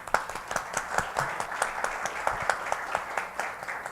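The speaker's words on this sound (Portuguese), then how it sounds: "Palmas para o Humberto Werneck" An audience claps and applauds at a literary festival event, with steady, moderately distant clapping continuing for a few seconds and no talk over it.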